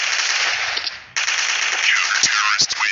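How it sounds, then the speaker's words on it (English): Rapid automatic gunfire in a shooting video game rattles loud and close in sustained bursts, with a brief break and some sharper individual shots near the end. "Oh, I heard some guns over there, huh?"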